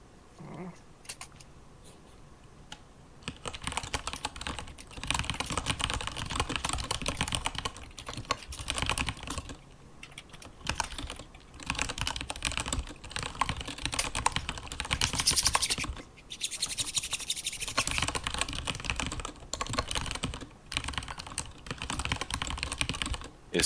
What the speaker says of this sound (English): Is somebody challenging my loud typing?